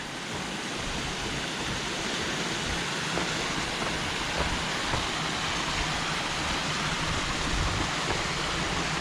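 The waterfall on the Battle Creek trail gives a loud, continuous roar of rushing water. It is close by and fills the whole scene without letting up.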